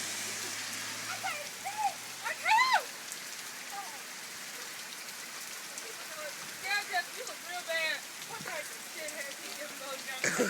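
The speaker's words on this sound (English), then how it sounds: "It's raining so hard" Heavy rain pours down in a steady, dense hiss that runs the whole length, while people talk intermittently over it.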